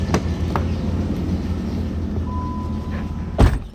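The door of an idling 2010 Dodge Challenger opens near the end, a short loud clunk over the steady engine hum. Faint clicks are heard earlier.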